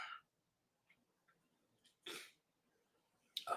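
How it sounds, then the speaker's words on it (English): One sharp, close sneeze bursts out of near silence, framed by a few quieter breaths and sniffs before and after, with a second sharp burst at the very end. "sorry, I gotta sneeze"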